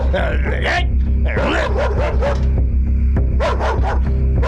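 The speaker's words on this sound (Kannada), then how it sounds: "ಯಾಕೆ ಬೊಗಳ್ತಿ ನೀನು" A dog barks repeatedly at close range, with sharp yips and whimpers, while a person talks loudly over and between the barks.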